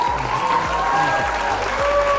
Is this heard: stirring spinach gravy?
no